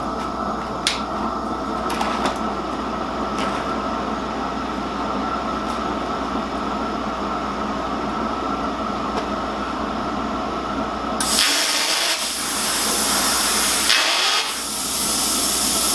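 A continuous harsh hiss and buzz of a plasma cutter, turning into louder irregular sputtering and crackling near the end from a poor ground connection.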